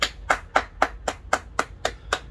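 One person claps hands outdoors on a back porch, nine sharp, evenly spaced claps in a quick steady rhythm, close and clear with no talking.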